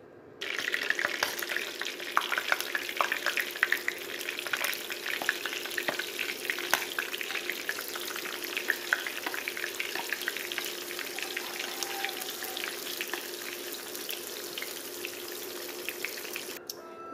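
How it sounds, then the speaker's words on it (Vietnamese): Fresh tofu skin fries in a pan with a steady, dense sizzle and crackle lasting throughout, close and even, with no talking. "Bây giờ mình bắt cái chảo lên mình chiên tàu kỳ cộng nha."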